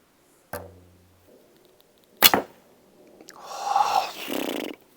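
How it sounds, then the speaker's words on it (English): Bow fitted with a Dacron replacement string is shot once: a sharp twang with a short low buzz, then a later crack and a longer rattling, wobbly hiss, all in a quiet setting. "that this Dacron string slows the bow, the whole thing a little down, makes it way more wobbly"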